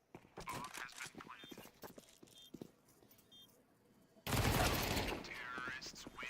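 Rapid burst of automatic gunfire erupts loud and dense in a competitive esports shooter match, after a stretch of commentator talk over quieter game action with faint pops.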